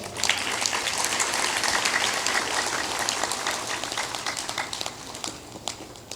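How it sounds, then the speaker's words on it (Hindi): An audience at a Hindi spiritual discourse claps steadily, a dense wash of many hands that stays loud and even for several seconds, then thins slightly toward the end. "बजा सकते हो ताली, कोई बात नहीं।"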